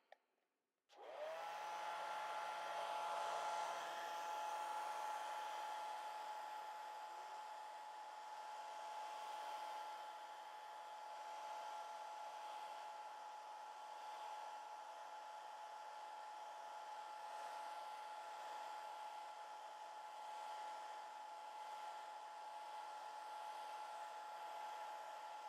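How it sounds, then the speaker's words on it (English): A hair dryer blows steadily on watercolor paint, starting with a click and then holding a constant, even whir for the full stretch with no talk. "Another session with the hair dryer."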